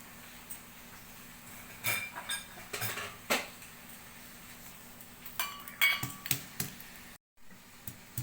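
Ginger and garlic are pounded for drumstick soup, with irregular sharp knocks and clinks of metal and utensils in a kitchen, some closely spaced, others spread apart, and little speech.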